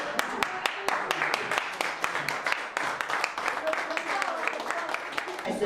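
A classroom or group crowd applauds a ski and chess champion with steady rapid clapping, loud and near, while voices chatter over it.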